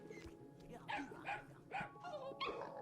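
A dog barks in a card video game, several short yelping barks spaced roughly evenly over a few seconds at moderate loudness, with a steady game background underneath.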